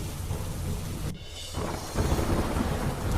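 A monsoon thunderstorm in Gujarat brings heavy rain falling in a dense, loud wash, broken by a brief dip and then a rumbling crack of thunder.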